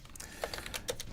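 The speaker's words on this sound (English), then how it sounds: "I guess I'm typing into the void." Quiet computer keyboard typing during a crypto livestream, a handful of light, irregular key clicks close to the microphone against a faint background hiss.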